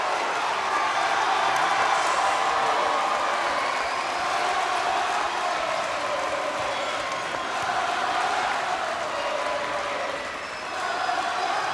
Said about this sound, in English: The crowd is rocking and rolling.